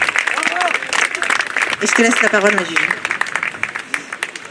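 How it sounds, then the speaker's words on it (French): Audience at an event applauds the volunteers of Isola, steady crowd clapping running throughout beneath someone speaking over it, with a few cheers rising in the middle. "Donc on peut applaudir aussi tous les bénévoles d'Isola"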